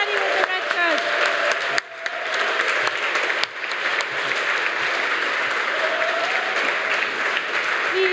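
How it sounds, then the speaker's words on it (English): A conference crowd at a closing ceremony gives the volunteers sustained, dense applause, with voices talking and calling out over the clapping throughout. "So round of applause for all the volunteers."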